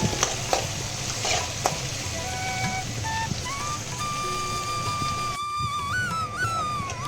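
Curry leaves and shallots fry gently in a pan with a continuous close sizzle and a few crackles, while faint high whistling tones, like a pressure cooker or distant bird, rise and waver in the background.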